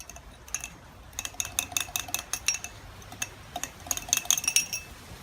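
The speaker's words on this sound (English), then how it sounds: "just mash it up." Tomato pulp mashed in a glass jar, giving irregular clinks and taps of a utensil against glass in bursts, with wetter squishing between them, near and fairly quiet.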